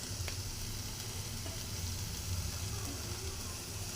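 Tomatoes and masala fry in a pan for a North Indian green chili dish, giving a soft, continuous hiss and sizzle with faint stirring scrapes, fairly quiet and close, with no talk.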